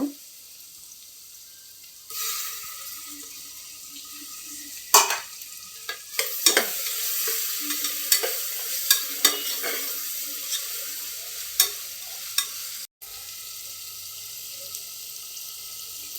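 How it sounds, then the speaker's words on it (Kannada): Fresh mint leaves fry in a hot pan for pulao, a steady sizzle running throughout with repeated clinks and scrapes of stirring rising above it, close and fairly loud, no voices. "ಈಗ ಚೆನ್ನಾಗಿ ಫ್ರೈ ಆಗ್ತಿದೆ"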